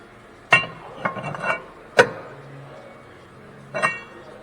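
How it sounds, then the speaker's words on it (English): A metal brake rotor slides onto the rear hub of a Kia Optima, producing a few sharp metallic clanks and scrapes close by, with short quiet gaps between knocks. "Go ahead and slide our rotor on."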